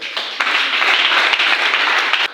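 A church congregation claps and applauds in praise, a dense, steady wash of clapping held at a loud level for a couple of seconds and ending abruptly.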